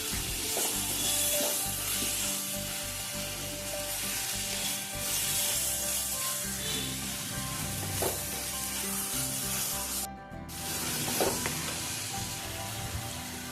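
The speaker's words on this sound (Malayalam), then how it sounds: "തക്കാളിയും മുളകും ഉള്ളിയൊക്കെ നല്ലോണം വഴറ്റിയെടുക്കണം." Tomatoes, chilies and onions sauté in a pan for Kerala fish curry, giving a steady, close sizzle and frying hiss with occasional stirring scrapes throughout, no voices.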